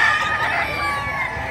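A big native rooster crows at a live poultry market in Calumpit, Bulacan, a sustained, close, loud call over a busy background.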